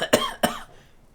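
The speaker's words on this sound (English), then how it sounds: "He only gets 2 kips out before he coughs" The character Kuno in Disco Elysium gives two quick, close, harsh coughs in a row, then falls silent.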